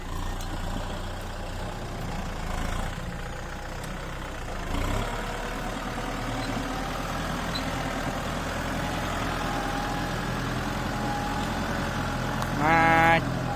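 A Kubota M6040 tractor ploughing a field to prepare soil for planting produces a low, steady engine drone, moderately close, with brief rises in the middle and a short higher whine near the end.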